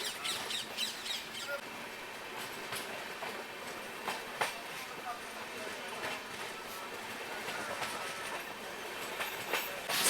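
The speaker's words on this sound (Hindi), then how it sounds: "लगभग 8 बजे अपनी ट्रेन जो है इस रेलवे स्टेशन से निकली है।" The Patalkot Express pulls out of a railway station, a steady rumble and faint clatter of carriages, with crows calling in the background.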